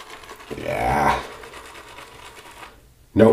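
A shaving brush whips Catie's Bubbles Vintage S.E.R.F. luxury shaving cream into a frothy lather in a loading bowl, a rapid wet swishing that swells then fades, with a voice briefly heard.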